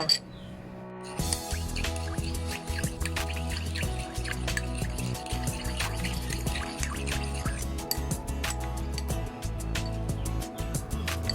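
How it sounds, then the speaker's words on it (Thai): Rice milk, from rice soaked in water, is strained, producing a constant, busy patter of close drips and trickling liquid that runs on evenly for over ten seconds. "เดี๋ยวเราไปกรองเอา น้ำนมข้าวกันเลยค่ะ"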